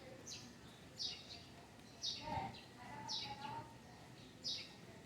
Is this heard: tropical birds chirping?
yes